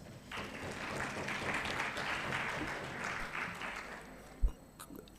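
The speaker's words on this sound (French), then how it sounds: "Ça aussi, ça s'applaudit." A room of people applauds steadily for several seconds, then the clapping fades out and a single thump sounds near the end.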